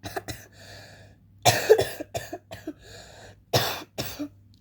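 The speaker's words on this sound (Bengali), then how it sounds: "এই যে কাশি দিলাম" A person gives several short, sharp coughs in a quiet room, spaced irregularly, with a throat-clearing quality and no talking.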